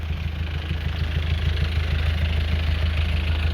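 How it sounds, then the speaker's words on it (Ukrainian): A steady SUV engine idling nearby, low rumbling pulse with a regular throb, continuous and fairly loud with no talking. "Заведений двигун, ви чуєте, як він працює."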